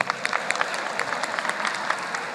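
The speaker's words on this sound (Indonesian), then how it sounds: "Tepuk tangan untuk Pak Sandi." A crowd at an Indonesian election talk event applauds for Pak Sandi, with dense, steady clapping heard from a moderate distance at fairly low level throughout.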